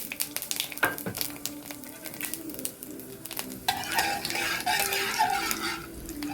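Whole cumin seeds and bay leaves crackle in hot oil, starting with light sizzling and stirring and then swelling into a louder, busier fry, with a bird cooing faintly in the background.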